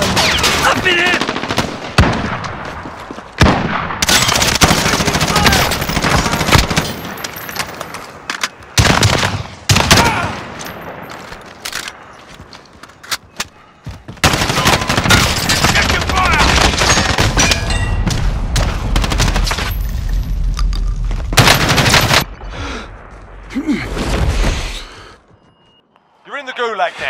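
Heavy video game gunfire, including shotgun blasts, rattles in long loud bursts and fusillades with brief pauses, while players call out and talk over the shooting.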